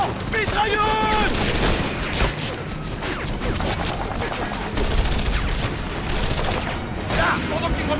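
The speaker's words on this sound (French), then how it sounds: "Attention! Mitrailleuse!" Machine gun fire from a Wii Medal of Honor: Avant Garde battle, dense rattling bursts and scattered gunshots packed into a loud, sustained barrage, with shouted voices breaking through the din.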